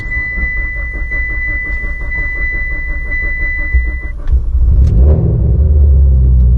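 A Mitsubishi Evo engine runs with a steady low rumble and idle pulses, then catches with a louder surge about four seconds in and settles into a heavier, rougher idle close by.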